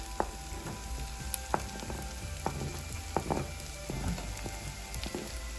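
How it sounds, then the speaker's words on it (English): Onions and garlic frying in a pan for a black bean casserole, a steady close sizzle with sharp crackles and occasional scraping stir strokes, no voices over it. "keep stirring your onions frequently to avoid them sticking to the bottom of the pan and burning"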